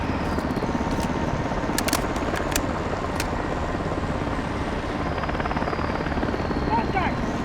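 A helicopter in the Call of Duty Modern Warfare 2 video game drones steadily and loudly throughout, with constant rotor noise, a few short sharp bursts near the middle and soldiers' radio chatter underneath.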